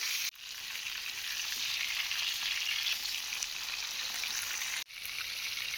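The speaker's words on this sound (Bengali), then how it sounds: "এপিট ওপিট করে মাছগুলো ভেজে নেব।" Katla fish frying in a pan gives a steady, loud hiss and crackle of hot oil that runs almost unbroken. It drops out briefly twice as the pieces are turned.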